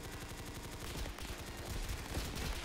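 Rapid automatic fire from a G36 rifle in a Roblox shooter, a dense continuous burst of sharp shots with game sounds layered over it.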